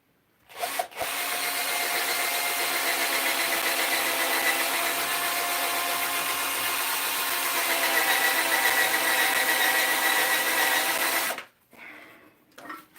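A power drill whirs steadily for about ten seconds, drilling through wood, a continuous loud grinding buzz close by, then cuts off abruptly.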